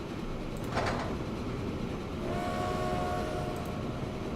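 Steady rumbling of a completely full train in the rail building game Transport Fever. It runs close and continuous with a short burst of clatter and a brief horn-like tone partway through, and no one speaks.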